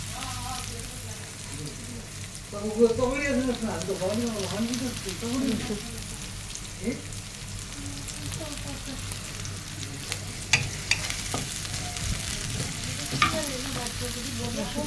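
Chopped garlic fries in oil for an eggplant chutney, a steady crackling sizzle running throughout, with a few stirring clicks and a voice speaking over it in the early part.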